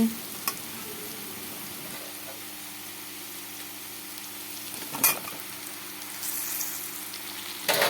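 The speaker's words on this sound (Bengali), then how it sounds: "আলুর সাথে হলুদ দিয়ে দিলাম আলুটাকে লাল করে ভেজে নিই" Potatoes fry with turmeric in a pan as part of a vegetarian sabzi, giving a steady moderate sizzle with a brief clatter of stirring near five seconds and another at the end.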